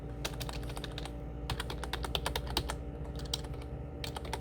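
A layer name typed on a computer keyboard while renaming a null layer in motion-tracking software, bursts of quick close key clicks with short pauses between words, quiet and alone without talk.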